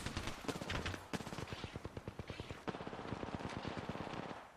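Gunfire in an Apex Legends match: rapid automatic bursts of closely spaced, punchy shots that continue almost without a break, loud and near, with a voice faintly in the background.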